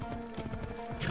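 Steady clip-clop of a horse's hooves in a video game, a quick even rhythm of close, loud thuds with faint background game sound.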